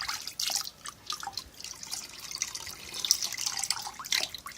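Water drips and trickles from hides just lifted out of a 48-hour tanning soak, a close, steady patter of drops with irregular splashes and no talk.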